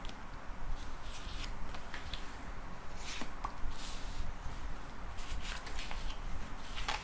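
Tarot cards riffled and shuffled by hand, then drawn from the deck during a French card reading; soft, steady papery rustling and flicking at close range, quiet, with sharper card snaps partway through and no talking.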